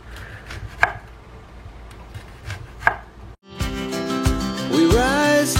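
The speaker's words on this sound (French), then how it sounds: "On découpe dans ce sens et on essaye de faire des très fines lamelles" A sharp kitchen knife slices onions into very thin strips on a cutting board, giving a few sparse, crisp close cuts before loud background music takes over.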